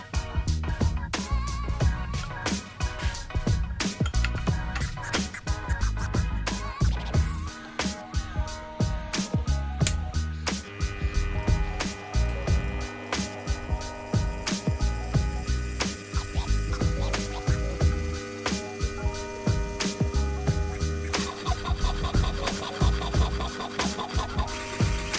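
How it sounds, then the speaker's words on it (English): A bench filer smoothing a scroll saw cut in metal while making a watch, a continuous fast rasping, ratcheting mechanical drone that stays close and steady for the whole stretch, with no speech. "tidy up the scroll saw cut with this bench filer"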